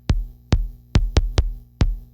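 Korg digital drum synth using a tube physical model, six hollow, resonant drum-like hits with deep low thump and short decay, spaced unevenly with a quick pair in the middle.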